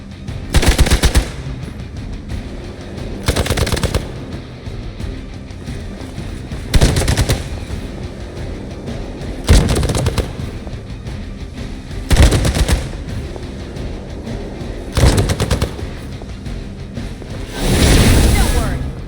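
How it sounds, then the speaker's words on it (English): In the game Marvel's Midnight Suns, machine gun fire hits Captain Marvel in loud, rattling bursts that come about every three seconds over a steady roaring background, and a voice talks through it. "Captain Marvel's being the tank here, taking all the shots."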